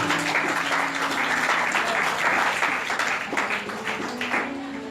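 A church congregation claps and applauds in a dense, sustained wash of hand claps for several seconds, with a few voices blended in beneath.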